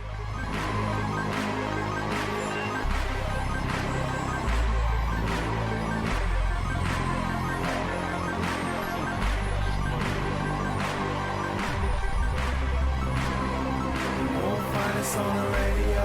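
A rap track plays loud and continuous, with a heavy bass-driven beat, a steady rhythmic pulse and dense layered production, no talk over it.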